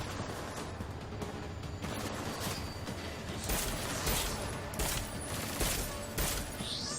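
Battle rifle fire in the Deus Ex: Mankind Divided game, repeated sharp shots in loose bursts over a dense, noisy game soundscape, fairly close.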